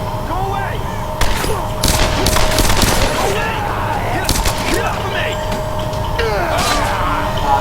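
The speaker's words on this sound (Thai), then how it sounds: "มีเสียงปืน" Rapid bursts of gunfire ring out in the Tomb Raider video game, loud overlapping volleys and automatic fire over a steady game soundscape, with an excited voice talking over the action.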